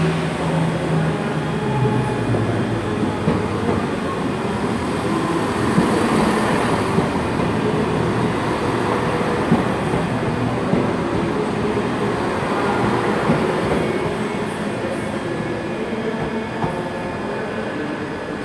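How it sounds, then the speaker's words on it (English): ScotRail diesel unit 170434 departing Glasgow Queen Street for Inverness, a sustained engine roar and rail rumble filling the station, steady and loud throughout with no talk. "departing out now is the 1439 service heading for Inverness, formed of unit 17434"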